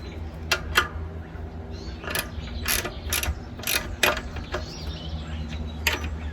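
Ratchet tightening the bolts on the metal band of a Big Green Egg ceramic grill, sharp repeated clicking bursts in uneven runs, close up over a low steady hum.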